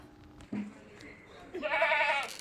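A milky cross-bred dairy goat near Kundara in Kollam district bleats once, a loud, wavering, nasal cry that follows a couple of brief, fainter calls and soft background sounds.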